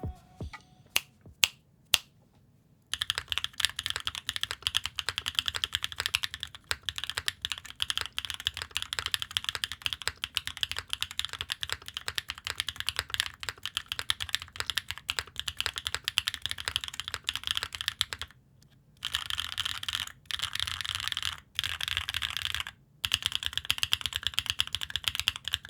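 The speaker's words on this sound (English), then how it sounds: "Here's a typing test." Typing on a Mode Tempo 60% keyboard with a carbon fiber plate, Zuoce Lavender switches and GMK keycaps: a steady, fast stream of close, crisp keystrokes with a few brief pauses and isolated clicks at the start.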